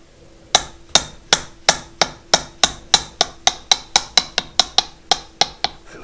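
A hammer strikes a part on a 2-litre air-cooled VW engine top end build in about twenty sharp, ringing metallic blows, quickening as it goes, close and loud with no talk.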